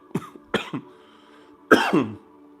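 A man coughs several times in a quiet room: two quick harsh coughs, a short pause, then a longer, heavier throaty cough near the end.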